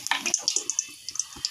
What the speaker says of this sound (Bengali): অল্প তেল দিয়ে দিচ্ছি